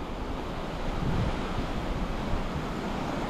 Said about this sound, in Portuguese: o mar ele é bem tranquilo, quase sem ondas